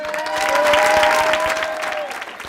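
Audience applauding a comedian at a French stand-up show, a burst of close, lively clapping with a voice or tonal sound carrying over it, easing slightly toward the end.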